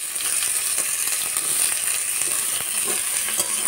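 Chopped onion fries in hot oil in a pan for a burger meat filling, a steady close sizzle with crackling pops and faint stirring throughout, and no voices.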